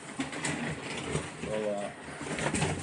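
Doves coo softly in a busy setting in Medellín, low repeated throaty calls mixed with background noise and people talking.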